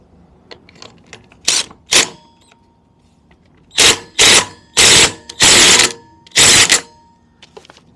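A power tool tightens a part on the clutch of a Direct Bikes DB50QT-11 Sport moped, firing in several short loud bursts of rattling impact, with quieter clicks and handling noises between them, all heard up close.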